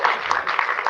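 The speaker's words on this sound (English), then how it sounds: "Can you give our actors and actresses a round of applause?" A short burst of audience applause for actors and actresses after a staged mock trial, dense rapid clapping, loud and close.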